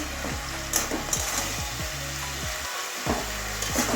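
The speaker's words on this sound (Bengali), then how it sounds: "ভেজে রাখা বড়িটা দিয়ে দিচ্ছি একটু বড়িও ভালো করে মিশিয়ে দেবো" Fried lentil dumplings are stirred into vegetables sizzling in oil for a bean, eggplant and greens stalk dish, a steady loud frying hiss with soft scraping stirs and a brief dip partway through.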